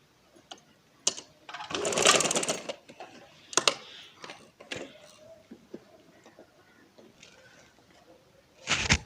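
A sewing machine stitches a baby girl's frock in short, rapid bursts, with a loud run near the start and another at the end, and quieter clicks and handling in the pauses between.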